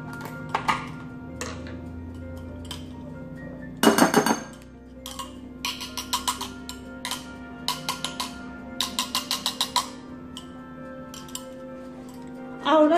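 A whisk beating a mixture in a bowl for a cake-like bread, in short bursts of quick metallic clinking and rattling with pauses between them, close up and fairly quiet.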